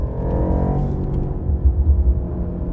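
A Mercedes-AMG GT 4-Door in electric mode playing its simulated V8 engine sound, a deep, loud rumbling drone that pulses and throbs close by, without talk.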